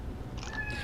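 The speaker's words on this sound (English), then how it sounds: "Yes, also featuring my cat Flack." A cat named Flack gives a short, faint meow rising over steady background hum, a single brief call lasting under a second.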